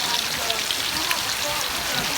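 Steady rain pours down outdoors, a dense, even hiss of drops hitting surfaces that continues without a break, fairly loud and close.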